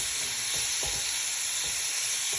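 Garlic frying in pork fat for a pork menudo gives off a loud, constant sizzle, broken by a few soft stirring knocks in the pan, with no voices.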